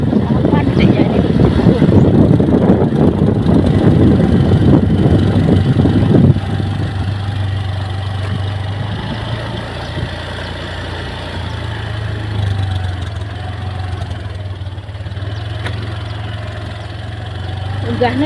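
A motorcycle engine idles steadily with a low, even throb; louder mechanical noise in the first few seconds, then a quieter continuous rumble with occasional voices.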